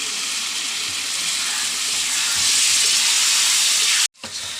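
Water is poured into a sizzling pan of chicken curry with tomato and spices, a strong frying hiss that swells louder before abruptly cutting off, then resuming faintly.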